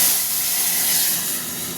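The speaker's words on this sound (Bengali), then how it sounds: "আমের চাটনিটা সাঁতলাবো।" Boiled mango chutney dropped into hot oil with dried red chilli and panch phoron, giving a loud, continuous close hiss of sizzling.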